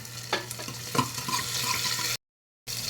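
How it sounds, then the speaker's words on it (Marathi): Onion fries in a pan with mustard seeds and cumin, a soft continuous sizzle broken by a few scraping spoon knocks, then a brief cut to silence before the hiss returns. "कांदा भाजत आलेला आहे"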